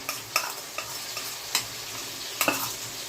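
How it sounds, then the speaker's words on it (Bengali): Tomatoes and a mixed spice paste sauté in a pan, with a soft steady sizzle under several sharp scrapes and clacks of a spoon stirring against the pan, close and fairly quiet. "আর টমেটোগুলোকে ভালো করে একটুখানি সাতলিয়ে নিচ্ছি"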